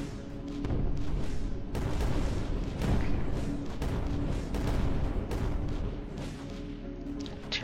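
Video game explosions and heavy gunfire rumble continuously, a dense barrage of booms and sharp blasts layered over a constant low roar, fairly loud and without talk.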